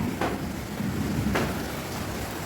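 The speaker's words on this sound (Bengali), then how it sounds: "কি বৃষ্টি পড়ছে দেখ।" Steady rain falls outdoors, a continuous broadband hiss with a couple of brief louder splashes or gusts, fairly loud and unbroken with no talk over it.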